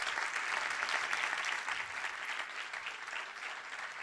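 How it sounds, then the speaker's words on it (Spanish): A church congregation bursts into steady, full applause that holds for several seconds and eases slightly toward the end, with no voices standing out. "Dele aplauso a Cristo Jesús."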